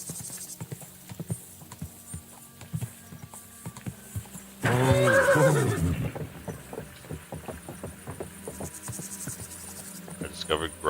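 A horse in the video game Kingdom Come Deliverance 2 lets out a loud, drawn-out whinny midway through, framed by light hoof clops, chirping insects and faint ambient game sounds.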